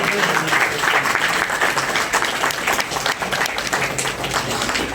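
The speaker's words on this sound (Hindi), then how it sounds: "भरपूर तालियां होनी चाहिए इस बच्चे के लिए, आपके हाथ नहीं रुकने चाहिए" Audience applause for a prize-winning boy at a cash prize presentation, steady dense clapping from a crowd filling the whole stretch at even loudness, with faint voices mixed in.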